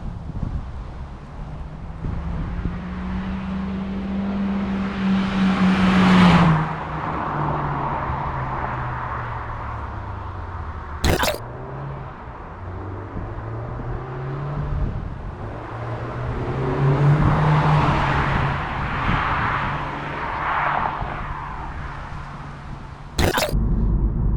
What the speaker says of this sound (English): I'm gonna cut a few clips in of how the car sounds flying by